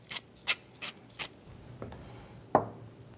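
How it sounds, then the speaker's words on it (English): Fresh black pepper cracked in a pepper mill over a pot of stock in a home kitchen: four close, brief raspy grinding twists in a steady rhythm, then a single sharper knock, with no talking. "A couple of turns of fresh ground black pepper."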